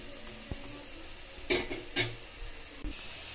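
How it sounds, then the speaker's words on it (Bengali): Potato pakoras shallow-frying in hot oil in a pan, with a quiet steady sizzle and a few sharp clinks and scrapes as pieces are turned over. "বড়াগুলোর আরেক পিঠ আমি উল্টে দিয়েছি, দু পিঠ আবারও ভালো মতো ভেজে নেব।"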